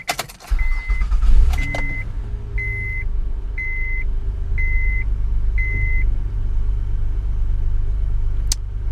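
A 2007 Honda Odyssey cranks briefly and fires up, settling into a steady low idle rumble while a chime beeps in a regular rhythm several times, with a click near the end.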